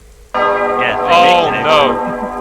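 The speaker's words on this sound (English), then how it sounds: "Those bells tell you when they've seen you." Alarm bells ring out in a video game, a bright clanging burst that starts abruptly and swells louder in two waves, dense and close, with no talking over it.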